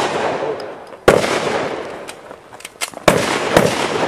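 Gunshots fired up into a tree outdoors, sharp loud cracks at about one and three seconds with a later smaller report and scattered faint pops between, no voices.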